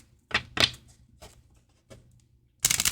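Bianco Nero tarot cards being shuffled by hand in short riffling bursts with pauses between, ending in a louder, denser flurry of card flicks.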